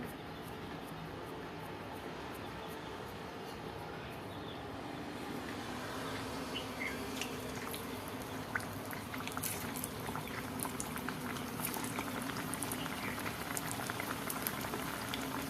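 Sabudana vada deep-frying in hot oil gives a steady bubbling hiss that swells slightly over time, with scattered faint pops and crackles, close and continuous with no talking.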